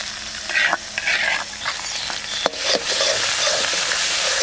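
Sea crab with yogurt and ground spice paste sizzles and is stirred in a pan, loud close frying with scraping strokes and a sharp clatter partway through, no voices.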